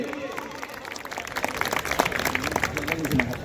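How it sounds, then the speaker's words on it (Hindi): An audience at a network marketing event applauds a speaker, scattered clapping rising over a room murmur, with voices talking through it. "एक जोरदार तालियां हो जाए सर के लिए।"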